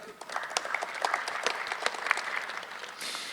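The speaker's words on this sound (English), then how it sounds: "That's worth a round of applause" An audience at a downtown Indianapolis civic briefing on safety plans for NBA All-Star Weekend breaks into a steady round of applause, dense overlapping claps sustained throughout at moderate loudness with no talking over it.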